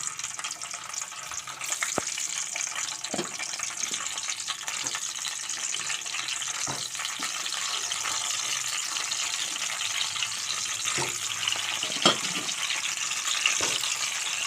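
Stuffed brinjals frying in oil in a pan, a steady soft sizzle with occasional stirring clicks, fairly faint throughout.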